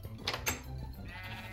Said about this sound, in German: Schafe!